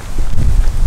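Strong wind buffeting the microphone outdoors in Zlatibor, Serbia, a loud low rumbling roar that fills the whole second with no voices.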